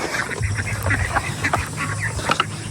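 Farm ducks quack in a steady run of overlapping calls near feeding time, moderately loud and close, with a low rumbling background underneath.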